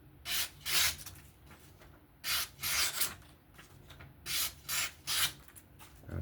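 A knife edge is honed freehand, short rasping strokes in bursts of two or three, each pair separated by quiet pauses, close and fairly soft.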